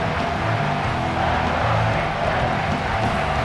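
Stadium crowd roar in the College Football 26 video game, a dense, steady wall of cheering noise swelling behind a big third-down defensive stand, loud and continuous throughout.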